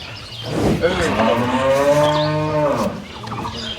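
A young dairy cow at a cattle market in Dinajpur gives one long, loud, close moo that rises and falls over about two seconds, with faint background voices.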